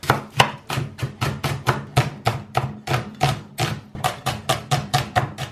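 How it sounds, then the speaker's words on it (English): A knife chopping onions on a chopping board for goulash, quick regular chops close up, about three per second, sharp and distinct with no talking. "the first thing we want to do is peel and chop 6 of our onions"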